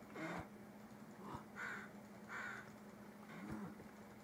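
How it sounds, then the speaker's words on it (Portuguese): Birds in the survival video game The Forest, several harsh crow-like caws spaced across a few seconds, faint over a quiet ambient hum. "Tem passarinho aqui"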